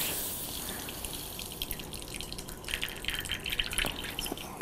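Water wrung out of a cloth trickles and patters steadily, with scattered drips and splashes growing a little busier toward the end.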